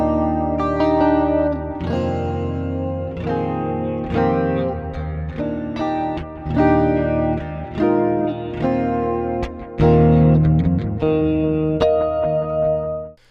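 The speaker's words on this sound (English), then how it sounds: "The first is an 80s inspired clean sound." Electric guitar recorded direct without an amp, dialed to a clean 1980s-style tone with chorus, echo and reverb, playing a strummed chord pattern with ringing sustained notes, alone and fairly loud.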